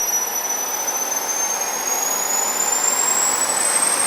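A small jet turbine engine spools up from about 18,000 toward 25,000 RPM, its loud continuous roar steady while a high thin whine climbs gradually in pitch throughout, heard up close with no voices.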